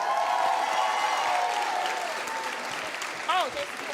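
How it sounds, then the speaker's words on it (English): An audience at a leadership graduation celebration breaks into loud, sustained applause that fades slightly, with voices and a brief cheer rising near the end. "So give them a round of applause."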